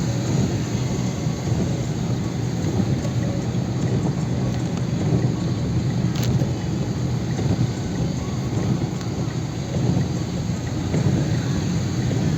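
Steady heavy rain pours over Delhi during a monsoon downpour, a dense continuous hiss of drops on surfaces that stays loud and even throughout with no voices.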